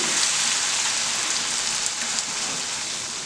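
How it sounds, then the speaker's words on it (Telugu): Ginger garlic paste fries slowly in a pan over a low flame, giving a steady, soft sizzle and crackle that runs evenly throughout with no talking. "నేను ఫ్లేమ్ కూడా ఇది లోలో పెట్టుకుని నెమ్మదిగా ఇది వేయించుకుంటాను"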